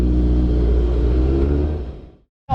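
A modified 2004 Suzuki GSX-R1000 sport bike with 10-inch extensions, lowered front and rear and re-geared, roars loudly and steadily at a dragstrip, the engine note fading over about two seconds before cutting off abruptly.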